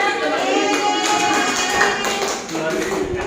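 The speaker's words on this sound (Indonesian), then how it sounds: "Boleh tepuk tangannya." Children in a classroom clap their hands after a drama performance, a steady patter of many small claps mixed with chatter and a teacher's voice throughout.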